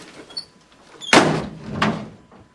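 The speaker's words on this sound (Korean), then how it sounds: "문이 쾅 닫혔다." A door slamming shut in a dramatized audiobook of Camus's story, a sharp loud bang followed by a second thud and rattle, preceded by faint small sounds, with no talk.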